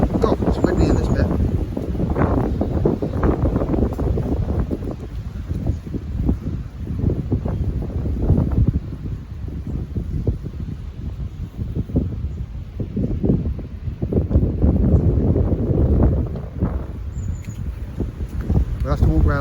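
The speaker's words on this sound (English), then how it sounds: "Oh, it's windy in this bit." Gusty wind buffeting the microphone beside a carp and coarse fishing pond, a loud, rumbling low roar that surges and eases in waves, with a person talking in places.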